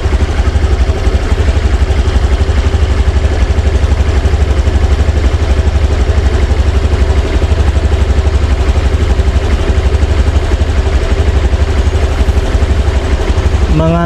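Honda Genio scooter with its battery removed and an anti-theft immobilizer fitted, its engine running at a close, steady idle with a fast regular pulse and no talk.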